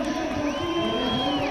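Crowd cheering for a rider in the USA Cycling Pro Road Nationals 2024 elite women's criterium, a steady roar of spectators that holds at even loudness throughout, with a faint whistle-like tone rising and falling above it.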